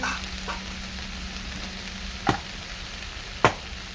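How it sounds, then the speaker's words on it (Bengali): Onions fry in a pan over a clay wood-fired stove, sending up a steady, close hiss of sizzling oil. Two brief clinks of a utensil break through near the end. "এটার মধ্যে পেঁয়াজটা বেশি ভাজতে লাগবে।"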